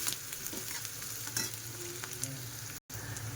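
Chopped onion frying in a pan while being stirred, a soft steady sizzle with occasional scraping strokes of the spoon, close and quiet, with a brief dropout near the end.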